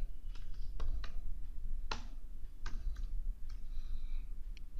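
Someone types a name on a computer keyboard while working in Excel, producing a handful of separate close key clicks and taps at an uneven pace against a quiet background hum.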